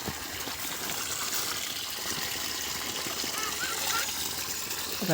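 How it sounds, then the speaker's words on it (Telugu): Borewell water gushes and trickles steadily at a farm, a continuous close splashing flow that holds even throughout, with a brief louder surge at the very end. "ఇదేమో మా బోరు వస్తుంది నీళ్ళు"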